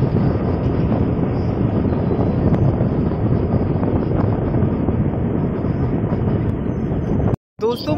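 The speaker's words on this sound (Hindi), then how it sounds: "ये पैसेंजर जो ट्रेन है वो गुजर रही है इस ब्रिज से।" A passenger train rolls across a river bridge over the Son at Koilwar, Bihar, a loud continuous rumbling roar heavy with wind buffeting, holding steady before a brief dropout near the end.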